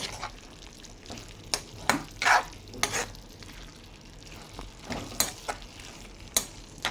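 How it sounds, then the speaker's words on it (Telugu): Repeated spatula scrapes and knocks while broad bean and tomato curry is stirred in a frying pan, close and rhythmic over a low sizzle, with no talking. "చక్కగా కలిపేసుకుందాం."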